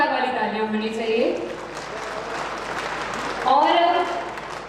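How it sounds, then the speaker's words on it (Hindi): Audience at a public government event in India with the chief minister present, giving moderate clapping that fills the gap between a voice speaking over a loudspeaker at the start and end. "जरा एक बार फिर से जोरदार वाली तालियां होनी चाहिए"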